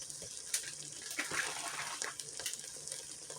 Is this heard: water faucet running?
yes